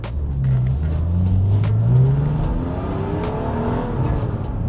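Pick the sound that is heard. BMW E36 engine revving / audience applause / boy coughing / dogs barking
BMW E36 engine revving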